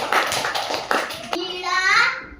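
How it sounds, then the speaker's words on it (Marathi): Children clapping hands in a classroom colour game, several short bursts of claps mixed with children's voices speaking, followed by a drawn-out sung or chanted tone near the end. "टाळ्या वाजवायच्या."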